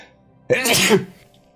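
A single sharp sneeze bursts out close by, loud and lasting under half a second, then fades to quiet.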